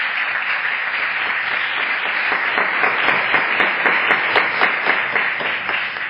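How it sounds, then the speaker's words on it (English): An indoor audience gives a sustained round of applause honoring military veterans who stand at a noon talk, dense clapping steady and fairly close with no speech over it. "Please stand up so we can give you a round of applause"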